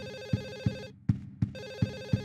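An old-style telephone rings insistently in Silent Hill 4: The Room, a continuous electronic trill with regular rhythmic pulses and one brief gap, heard alone and fairly loud.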